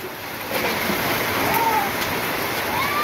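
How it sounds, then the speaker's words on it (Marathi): Heavy rain pouring down, a dense steady hiss that swells slightly after the first half second and holds constant, close and loud, with no talk over it. "बघू शकता तुम्ही पाऊस लय बेकार पाऊस आलेला आहे"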